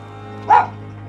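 A single short dog bark rings out in the video game Vampyr, a brief mid-distance yelp over a quiet steady hum.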